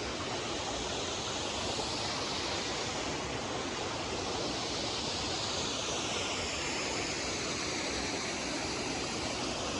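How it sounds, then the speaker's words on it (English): A waterfall at Cae Adda in North Wales pours with a steady, full rushing roar that never lets up, close and loud with no voices over it. "There we are, background to the waterfall."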